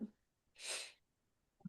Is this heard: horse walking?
no